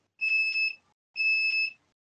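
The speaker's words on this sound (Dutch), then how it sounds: "Daar gaat een alarm ergens af." An electronic alarm sounds somewhere nearby: two identical piercing beeps, each about half a second long, separated by a short pause, with nothing else audible.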